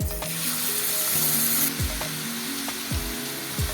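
Grated bottle gourd sizzles steadily in hot ghee with a loud, even frying hiss, broken by a few periodic scraping strokes of a spoon against the pan.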